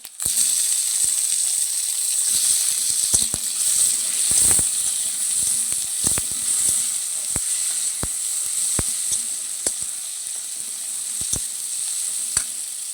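Tomato sizzling in a hot pan while cooking a spicy chela fish curry: a loud, steady frying hiss runs throughout, broken by scattered sharp crackles and pops.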